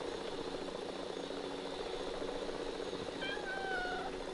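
A cat meows in a Lego Worlds game on PS4, a short falling meow near the end over a steady droning engine hum from a flying contraption.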